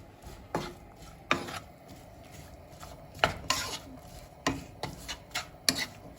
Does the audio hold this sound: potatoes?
yes